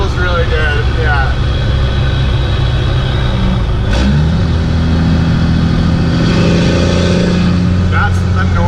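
A Chevy truck with a swapped Cummins diesel engine revs and pulls hard on a test drive, loud and close inside the cab, with a gear change midway and people talking over it.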